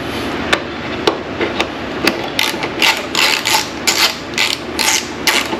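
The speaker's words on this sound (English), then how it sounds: "I'm gonna put the oil drain plug back in first. Gonna screw that back in." Oil drain plug being screwed back into a car's oil pan with a ratchet wrench, likely on an Infiniti G37; a few sparse, sharp clicks give way to faster, close bursts of ratcheting with no talk.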